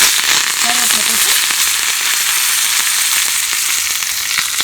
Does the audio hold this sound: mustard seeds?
yes